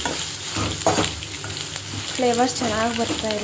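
Cumin, crushed garlic and peanuts sizzle and crackle in a hot pan with stirring scrapes, a steady close frying hiss beneath a person speaking.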